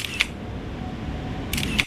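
Two crisp camera shutter clicks during a portrait shoot, DSLR compared with a camera phone, each a short, close mechanical snap about 1.5 seconds apart over steady background hiss.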